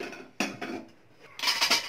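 A kadai pan set down on the stove before tempering tomato and pepper rasam, giving two short metallic clanks close by followed by a louder clattering scrape of cookware.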